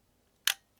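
An Olympus XA camera fires its shutter once, giving a single short, sharp, crisp click close up against near silence.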